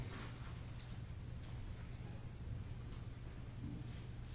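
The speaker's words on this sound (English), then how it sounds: "It was nice to sit here and just hear the rain." Steady rain falls outside close to an indoor sitting spot. The patter is broad and even, with a low rumble under it, and it runs without a break for the whole stretch with no one talking.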